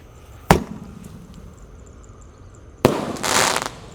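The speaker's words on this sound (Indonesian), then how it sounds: "Ini Raja Wali Roman Candle guys." A Raja Wali jumbo Roman candle firework goes off outdoors: a sharp pop of ignition, a pause, then a second loud bang followed by a brief crackling burst.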